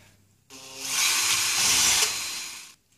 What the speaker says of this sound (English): I'm just going to use a step drill bit here